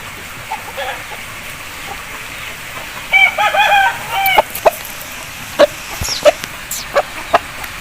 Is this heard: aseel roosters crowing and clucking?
yes